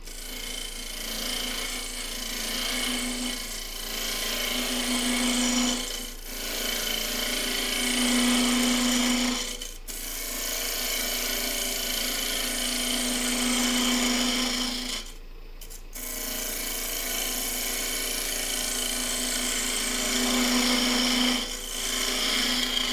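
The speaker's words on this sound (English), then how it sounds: "we're going to crank the lathe speed back up" A wood lathe spinning near 1,500 RPM while a hollowing tool cuts inside a maple burl vase: a constant motor hum with a rasping scrape that swells and eases in repeated passes, with brief drop-outs, up close and without talk.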